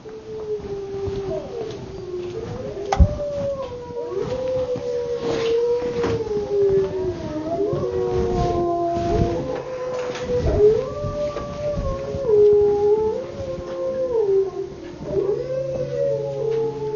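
Several wolves howl together in long wavering tones that rise and fall over one another, steady and fairly close, with no talking.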